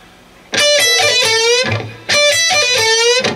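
A distorted electric guitar plays two matching phrases from a solo, each a bend held with wavering vibrato, loud and close with no talk.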